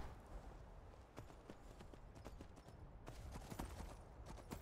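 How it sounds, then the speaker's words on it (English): Horse hooves galloping in the Skyrim video game, a fast, steady clip-clop of repeated sharp hoofbeats running continuously over a dense rumbling background. "I'm on a horse!"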